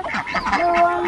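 Free-range ducks on a farm quack over watermelon rinds, a short run of close, nasal calls overlapping one another.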